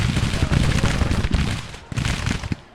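Civil War troops firing muskets at short range in the video game Grand Tactician: dense, crackling volleys of overlapping shots roll on continuously with a few sharper reports, while a voice talks over the battle.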